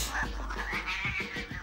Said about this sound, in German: Katze, verpiss dich.